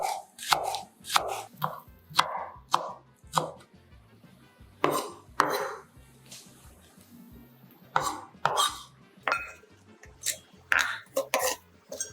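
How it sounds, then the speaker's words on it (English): A knife cuts thinly through scallion and leeks on a board, irregular crisp chopping strikes in quick clusters with pauses between, close and fairly loud, no speech. "Cut thinly 1 large scallion, leeks."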